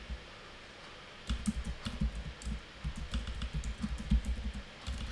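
Close, quiet typing on a computer keyboard: a quick, irregular run of soft key clicks starting after a brief pause.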